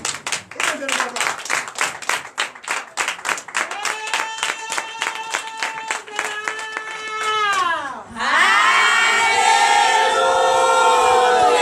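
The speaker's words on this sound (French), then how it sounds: "Donnez l'acclamation à Jésus" A church congregation at a Sunday worship service in Comè, Benin, acclaims Jesus: rhythmic group clapping at first, then sustained shouts and cries that swell into a loud, dense roar of voices near the end.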